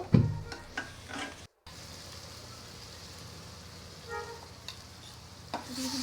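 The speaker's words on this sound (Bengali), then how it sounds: "ওদিক দিয়ে ডিমের যে মশলাটা ওটাও ভেজে নিচ্ছি" Egg curry spice paste frying in a pan, a quiet continuous sizzle with occasional stirring clatters and brief louder pops, close up and without talk.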